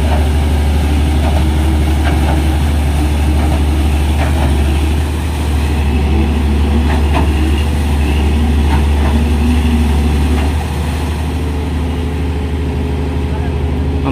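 The engine of a trash skimmer vessel in Manila Bay runs as a loud, steady low rumble throughout, with faint distant voices and clatter in the background.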